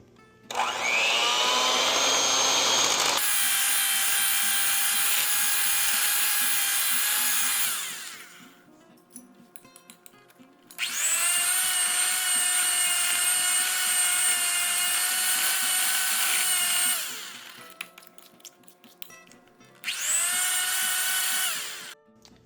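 Electric mixer creaming butter and sugar for chocolate chip cookies, a high whirring drone running in three bursts separated by short quiet gaps, close and steady while on.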